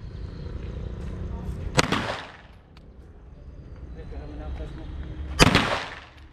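Two loud, sharp gunshots from a CZ EVO 3 A1 pistol fired at an 8-meter target at a gun store range, spaced a few seconds apart, each ringing briefly over a low murmur of background noise.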